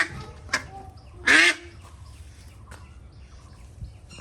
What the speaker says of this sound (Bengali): এই তো হাঁস